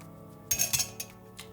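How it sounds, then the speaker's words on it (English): A glass and a cocktail strainer being set out for a Drambuie Old Fashioned clink together in a few short, bright taps close by, with a couple of fainter clinks trailing off. "take yourself a really nice glass here and a strainer"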